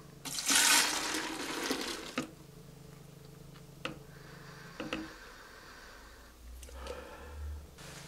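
About 375 ml of demineralised water is poured into a giant soap bubble mixture, giving a loud splashing rush at the start that then fades into quieter trickles and small knocks, with no talking.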